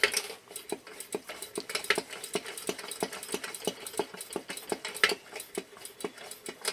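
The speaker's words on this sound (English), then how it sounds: "I'm going to start pumping it up, and I will light it." A 1946 Coleman 242C lantern is pressurized with its hand pump, giving steady, rhythmic short strokes that click and whoosh at a quick even pace, close and fairly quiet, with no talk.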